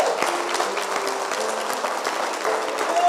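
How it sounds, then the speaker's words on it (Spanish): A church congregation claps steadily in a continuous, fairly loud round of applause, with no talk over it. "Dale ese aplauso al Señor"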